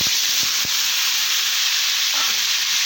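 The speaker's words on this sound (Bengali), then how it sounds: "তেল গরম হয়ে গেছে। এরকম এঁচড় বানিয়ে রেখেছিলাম, এগুলো ছেড়ে দিলাম।" Prepared green jackfruit dropped into hot oil for a mild vegetarian curry, a steady loud broadband sizzle with a few low thumps near the start as the pieces go in, no voices.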